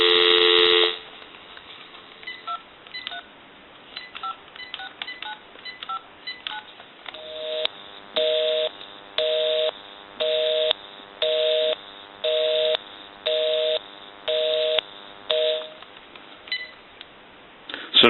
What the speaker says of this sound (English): We'll dial my number and it'll be busy. Give you some dial tone.